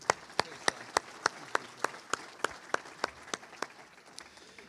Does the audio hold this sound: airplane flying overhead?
no